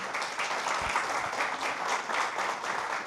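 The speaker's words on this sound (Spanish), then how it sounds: "puedes aplaudir al Señor si deseas" A church congregation applauds steadily during a worship service, a dense wash of many hands clapping at moderate distance with no voices standing out.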